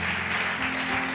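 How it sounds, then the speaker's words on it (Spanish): Church congregation clapping during a Spanish-language sermon, a steady wash of applause at moderate level over a low sustained tone, with no speech on top. "Den un aplauso fuerte al Señor."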